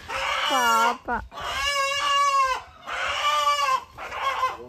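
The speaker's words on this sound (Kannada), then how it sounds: "ಫೈನಲಿ ವಿ ಗಾಟ್ ಅವರ್ ಕೋಳಿ ಫಾರ್ ಮೊಟ್ಟೆ." A chicken kept at home for eggs gives several loud, close squawks and clucks in bursts, with a person speaking briefly among them.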